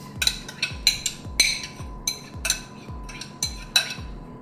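Sautéed mushrooms stirred into beef in a pan, a regular run of bright metallic clinks and scrapes from a utensil against the pan, close and rhythmic, roughly two strokes a second.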